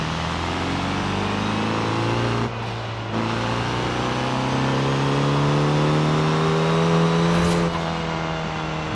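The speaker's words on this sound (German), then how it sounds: "Von drin hört man nur so Saugeräusch." A tuned Hyundai Elantra in the racing game Forza Horizon 5 drones under sustained throttle, its engine pitch climbing steadily with a brief dip at a gear change, heard from inside the car with intake noise prominent.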